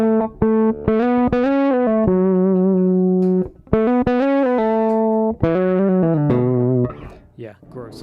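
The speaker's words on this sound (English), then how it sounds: "I've got like distortion going on because the gain is different" Bass guitar played through an envelope filter pedal with unwanted distortion from mismatched gain, giving sustained buzzy, fuzzy notes in short phrases with gaps between them.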